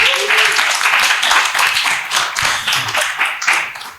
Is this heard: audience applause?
yes